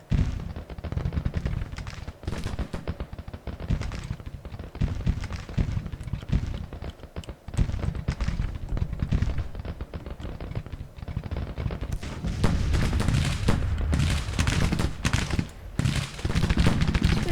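Continuous musket and artillery fire from a Civil War battle in a strategy game: dense, crackling volleys and rolling booms that keep going without a break and grow heavier toward the end, with no talking.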